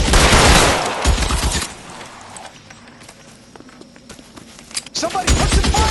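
Rapid bursts of gunfire in the LA Noire video game, loud and dense at the start and again near the end with a quieter stretch between, mixed with shouting voices.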